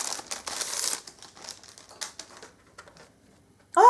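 Plastic packaging around a set of makeup brushes crinkles and tears as it is opened, in close bursts of rustling that thin out into a few sparse crackles, with a short voice at the very end.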